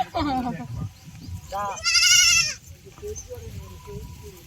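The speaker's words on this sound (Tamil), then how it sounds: "ஆட்டில் பால் கறக்குறாங்க" A goat bleats while being milked at a household Pontiac-style Pongal celebration, a few close, wavering cries, one especially loud and high, over outdoor noise with people talking throughout.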